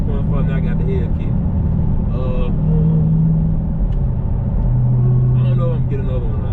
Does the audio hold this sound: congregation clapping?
no